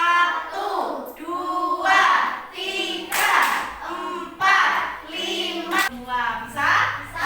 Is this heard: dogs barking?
no